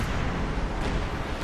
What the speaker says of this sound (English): There's been explosions after explosions.